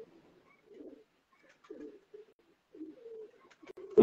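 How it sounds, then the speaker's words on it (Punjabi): An old black-faced Sialkoti pigeon coos in a few soft, low, rolling bursts with short pauses between them, ending in a sudden louder burst close by. "ਇਹ ਪਿਓਰ ਕਾਲੇ ਮੂੰਹ ਵਾਲਾ ਕਬੂਤਰ ਜੇ ਪੁਰਾਣਾ ਹੈ ਜੀ"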